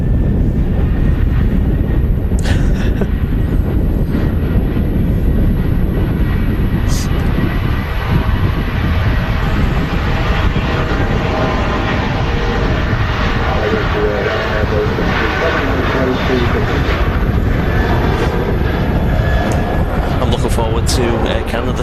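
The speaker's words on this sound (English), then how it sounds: "a couple of aircraft on the approach, an EasyJet from Rome, followed by a Ryanair from Faro." EasyJet and Ryanair airliners on approach at Manchester Airport, a loud steady roar of jet engines mixed with wind rumble, lasting throughout with people talking over it.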